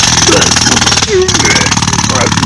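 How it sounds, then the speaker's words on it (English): Jackhammer being worked, a loud fast continuous rattling hammering close by, with someone talking over it throughout. "They drink beer and they smoke Marlboro while they work the jackhammer."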